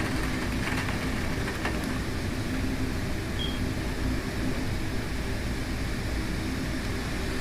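Strong straight-line winds from a severe thunderstorm in St. Louis, Missouri, roaring as a steady, loud broadband rush that holds without letup, close and continuous, with no voices over it.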